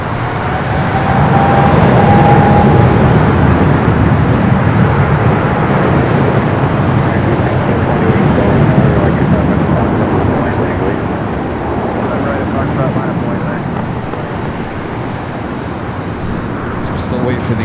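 Jet engines of airliners at Los Angeles LAX airport, a steady loud roar of a big jet rolling toward runway 4 Left for departure to Shanghai, heard from a distance and continuous throughout, with traffic-like rumble mixed in.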